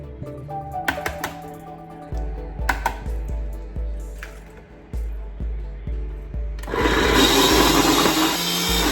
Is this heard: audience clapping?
no